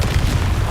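A deep, rumbling blast from the Confringo spell in Hogwarts Legacy, heavy in the low end and sustained through the brief moment, with no talk over it.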